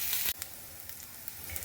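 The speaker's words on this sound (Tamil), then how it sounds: "கொஞ்சம் தேங்காயை வந்து தேங்காய் எண்ணெயை விட்டு கொஞ்சம் நல்லா வறுத்துட்டுருக்கேன்" Coconut pieces sizzle steadily in hot coconut oil in a pan. The frying is faint and continuous, broken by a brief stirring scrape near the start and a few soft crackles.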